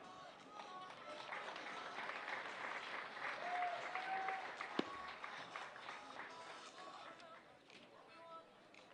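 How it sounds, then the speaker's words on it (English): Applause rises from the crowd at an FCA All-Star charity softball game, a moderate, fairly distant clapping that swells and fades over several seconds, with voices talking underneath and a single sharp knock midway. "Please join me in offering a big thank you and round of applause to Stephanie Lang."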